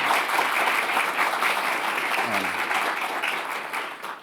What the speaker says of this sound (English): Please join me in giving them a round of applause and congratulations